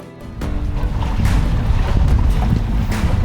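A sailboat rushes fast through a tidal channel current in the Kimberley, water splashing and rushing against the hull with strong wind buffeting the microphone, a continuous loud roar throughout.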